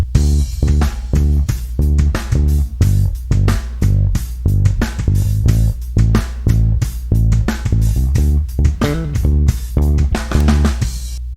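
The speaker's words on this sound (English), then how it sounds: "In context, this variation sounds like this." A rhythmic bass guitar groove variation from a song plays with drums in a steady repeating pattern, loud and upfront, with punchy hits throughout and no talking.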